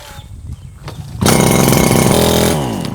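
A Maruyama MBS320V brush cutter pulled with its recoil starter: a few faint rattles, then the small two-stroke engine catches about a second in and runs loud and close, with a steady buzzing idle that slightly drops in pitch toward the end.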